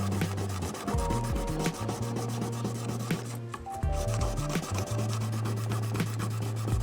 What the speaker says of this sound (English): this piece is a little tiny piece of sandpaper I've been using for a long time